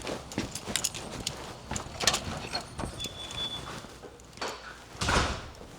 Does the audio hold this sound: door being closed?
yes